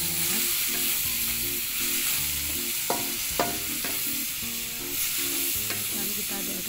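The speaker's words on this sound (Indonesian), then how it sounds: "kita tumis dulu bawang merah, bawang putih, cabe sampai agak layu dan baunya harum ya" Shallots, garlic, chili and tomato sauté in a pan with a dense, steady sizzle, while a utensil stirs and taps a few times, close and continuous, with no talking.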